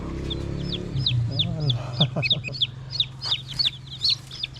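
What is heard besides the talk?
newly hatched chicks peeping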